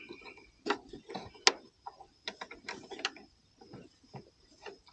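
Ratchet straps on a water-hauling trailer load are cranked tight, giving a series of sharp, irregular metallic clicks and ratcheting bursts, close and fairly quiet against a near-silent background.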